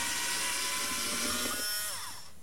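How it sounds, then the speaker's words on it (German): A power drill bores through thick Plexiglas with a steady, loud high whine, its pitch sliding down as the bit slows and pulls back, then the sound fades out near the end. "Man sollte den Bohrer gehen lassen und nicht Druck ausüben."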